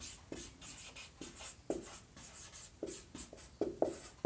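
A pen scratches across paper in short, repeated strokes, close and quiet, as two columns are written out in a lesson on direct and indirect narration.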